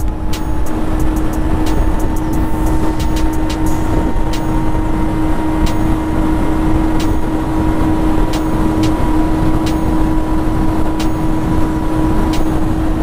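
An electric scooter kit built on a Honda Ruckus runs at full top speed, its motor giving a steady high whine over loud, constant wind and road rush, with a few faint clicks.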